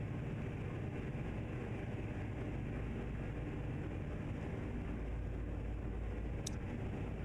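A steady low truck engine drone from a double-trailer trucking video game, even and continuous at moderate level with no other clear sounds.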